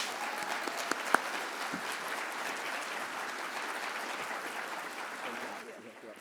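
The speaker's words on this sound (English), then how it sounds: "let's give Brooke a round of applause to come up to the stage" A conference audience in Washington, D.C., applauds a speaker coming up to the stage. The clapping is dense and steady and carries through a hall, then fades out at the end.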